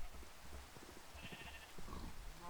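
Sheep bleating in the Minecraft video game, a faint wavering call partway through over a low rumbling game backdrop.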